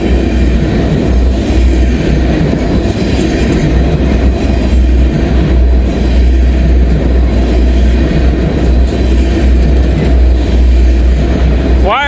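Short empty CSX or Norfolk Southern freight train rolling past at night, a steady loud rumble of wheels and cars sustained throughout, with a brief squeal near the end.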